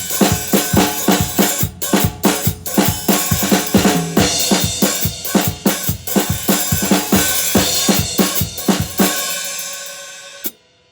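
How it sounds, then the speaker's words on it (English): A drum kit plays a Latin-style verse beat for a Cajun tune, with sharp, evenly spaced hits in a steady repeating pattern that fill about nine seconds before stopping, then one last isolated hit; no talk. "During the verse, there's kind of a Latin beat,"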